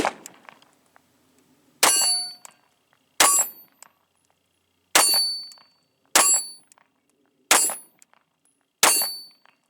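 A CZ 52 pistol firing 7.62x25 cartridges: seven loud, sharp shots ring out alone at irregular intervals of one to two seconds, each with a bright metallic crack and a short decaying ring.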